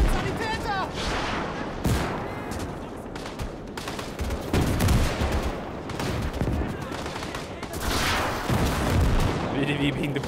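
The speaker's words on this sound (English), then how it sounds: "APCs taking fire as they move up." Continuous gunfire and booming artillery rumble through a large-scale battle in the World War II game Gates of Hell, where APCs move up under fire as near and distant shots crack for over ten seconds.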